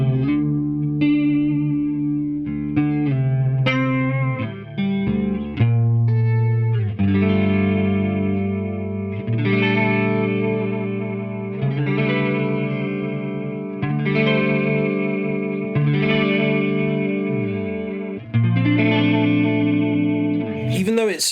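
Guitar played through a Walrus Audio Julianna chorus pedal, sustained chords and single notes ringing with a wavering, shimmering modulation, close and continuous with no talking over it.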